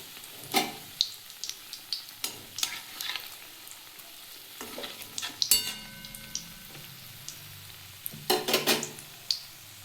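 Kakrol (spiny gourd) pakoras fry in hot oil, a light bubbling sizzle punctuated by sharp scrapes and taps of a utensil against the pan at irregular intervals; no talking.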